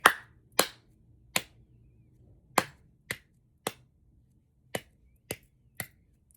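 One person claps out an irregular rhythm pattern for learners to copy: nine sharp, close hand claps with uneven gaps, each clean and separate against a quiet room, with no talking.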